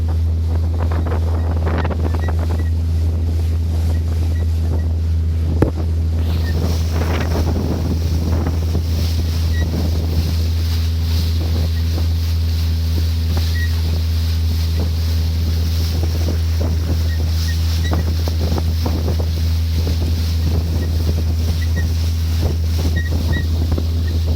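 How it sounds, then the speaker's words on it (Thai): A motorboat travels down the Nam Ou river in Laos, its engine droning loud and steady throughout, with wind buffeting the microphone and water rushing along the hull. "บรรยากาศล่องแม่น้ำแบบนี้หายากนะครับ"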